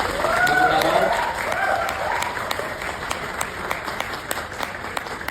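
Audience at a toppers' party clapping for the founder of a study group, with steady crowd applause and sharp individual claps, and a voice speaking over the first part before the clapping continues alone.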